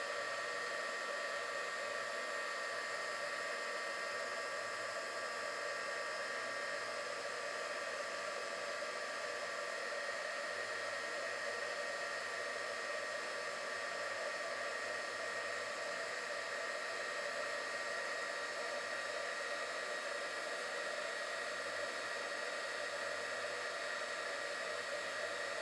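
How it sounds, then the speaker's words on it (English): A handheld heat gun blows hot air steadily while drying a jewelry piece held by its head pin, a constant broadband rushing hiss close by that lasts unbroken and alone, with no talk. "Now I'm gonna come in with my heat gun."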